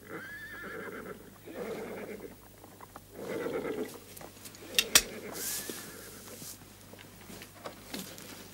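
Horses neigh in repeated whinnying calls spread across the span, each a wavering, fairly close cry. A sharp knock and a few soft clatters sound between them, over a faint steady hum.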